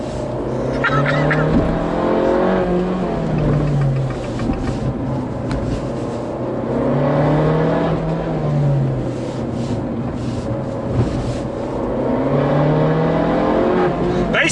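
Abarth 695 Anniversario engine on a race track, revving hard through repeated rising gear pulls with drops at each shift, loud and close from inside the car.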